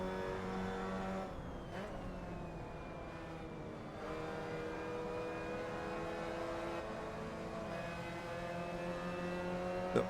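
Mazda Cup race car engine in a racing video game at Mugello, droning steadily at high revs with shifting pitch as gears change and the throttle eases, loud and continuous with no talking.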